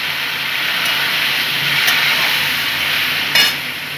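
Raw pumpkin fries with spices in a pan as water is added, giving a loud, close, steady sizzling hiss with a short sharper splash-like burst near the end.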